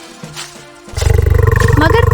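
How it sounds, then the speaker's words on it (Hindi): A huge tiger in a forest lets out a deep, loud, rumbling roar that starts abruptly after a quiet moment and holds steady to the end, up close in an animated story. "ये कोई और नहीं बल्कि एक विशाल टाइगर की गरज थी।"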